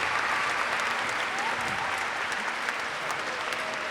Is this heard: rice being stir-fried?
no